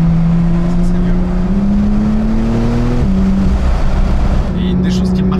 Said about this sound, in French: Ouais, c'est ça, le turbo charge